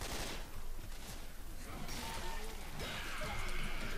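Gunfire in the zombie shooter Left 4 Dead 2 crackles as a dense, noisy barrage through a chaotic game mix, steady and fairly loud throughout, with occasional voice sounds mixed in.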